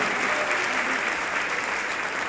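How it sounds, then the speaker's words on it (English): Crowd at an evening event for the IDA organization clapping and cheering, a thick continuous wash of applause, loud and steady throughout. "Make some noise, ladies and gentlemen. Clap it up."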